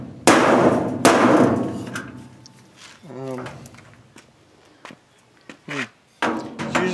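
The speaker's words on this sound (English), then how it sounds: "take a hammer to it like this." Two loud, sharp hammer blows ring on the metal of a washing machine, followed by quieter clanks and knocks, with a person talking in between.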